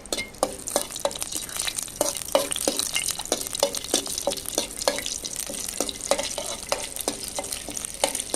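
Bay leaves, cloves, cinnamon and kasuri methi frying in hot oil for a village-style chicken biryani: a loud, close, continuous crackling sizzle with rapid popping bursts throughout.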